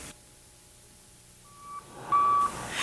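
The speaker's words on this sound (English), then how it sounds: "Ensure that your backing alarm is operational so that anyone moving nearby will be able to hear the audible signal when you move backward" Backup alarm on a snow removal vehicle, starting faint and growing louder, with a steady tone that becomes a clear, strong beep near the end over low engine rumble.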